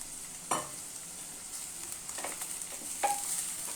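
Carrot and cabbage stir-fry for veg hakka noodles, a faint, steady sizzle with a few soft scraping stirs of the spatula against the pan, no voices.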